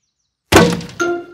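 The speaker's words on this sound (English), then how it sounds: "Who's throwing footballs at my greenhouse?" A cartoon football smacks into a glass greenhouse with a sudden loud crash after a short silence. Ringing glassy tones and a second clatter follow.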